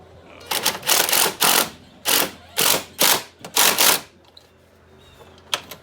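Winch mounting bolts on a Can-Am Outlander 850 MAX XT ATV are tightened with a ratchet, producing a series of close, loud rhythmic bursts of rapid clicking separated by short pauses.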